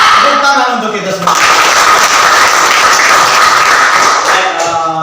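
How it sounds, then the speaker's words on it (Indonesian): A class of students in an Indonesian history lesson bursts into sustained, loud group clapping that fills several seconds, with a teacher's voice heard just before it starts and again as it fades. "Tepuk tangan untuk kita semua."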